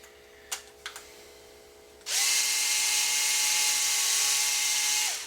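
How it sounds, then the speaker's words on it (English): A hole is drilled in wood for a screw while building a Top Flite P51 ARF model plane. A couple of light clicks come first, then a close, steady high-pitched drill whine runs for about three seconds. "I drill one hole and put one screw in."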